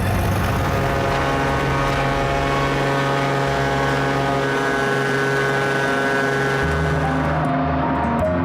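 Loaded small bush plane in remote Alaska, a loud steady engine and propeller drone that holds constant with slight shifts in pitch, close to the listener, with no voices.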